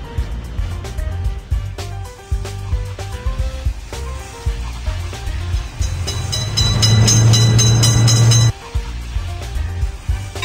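A cartoon train rolls past a railway crossing in a children's game with a lifting gate, a loud steady rumble swelling for about two seconds over bright game music, then cutting off abruptly.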